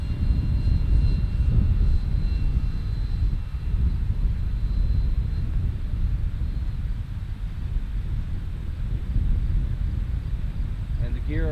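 A Freewing L-39 Albatros model jet on its maiden flight in gusty wind whirs steadily overhead, its engine hum low and continuous with wind buffeting the microphone.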